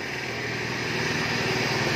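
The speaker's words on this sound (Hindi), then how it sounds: "और ये शाइन बाइक है" A Honda Shine motorcycle engine runs steadily at close range, a continuous buzzing drone with a fast, even firing pulse and no talk over it.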